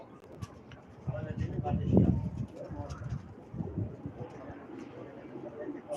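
Pigeons coo softly at a bird market, with low repeated calls nearby and a louder coo partway through, amid the general background of the stalls.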